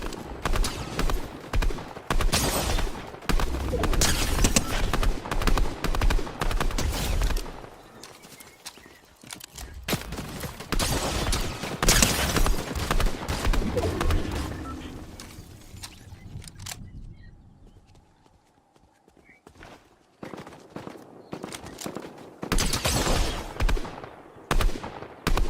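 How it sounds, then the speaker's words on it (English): Rapid burst-rifle gunfire from a video game comes in loud clustered volleys, fading into a quieter stretch before dense bursts return near the end. "this burst rifle is broken"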